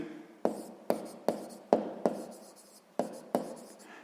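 Handwriting a math expression on paper, with about eight crisp pen strokes in an irregular rhythm, heard up close in a quiet room.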